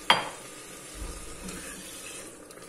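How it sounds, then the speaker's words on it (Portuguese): About 100 ml of water poured into a pressure-cooker pan of rice with pork chops and calabresa sausage, starting with a sharp splash and settling into a soft sizzle and bubbling, with no talk. "Vou colocar mais 100 ml de água."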